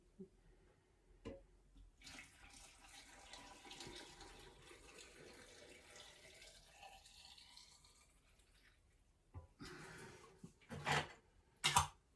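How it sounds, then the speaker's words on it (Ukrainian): Boiling marinade is poured into a jar of tomatoes, a faint, trickling splash that runs for several seconds, followed by a few brief clinks and knocks of the jar. "Киплячим маринадом заливаю помідорки е, в банці"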